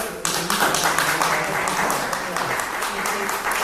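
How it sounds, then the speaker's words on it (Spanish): Audience applause fills a hall at the Ateneo de Montevideo, steady dense clapping starting after a brief pause and continuing throughout, with a voice speaking underneath. "así que reiteramos este aplauso al amigo"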